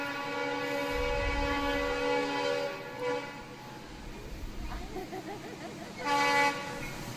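A train rolls along with its horn tooting in sustained harmonic blasts, a longer one early and another near the end, over a low rumble of the rail car, heard as a clip replayed on screen.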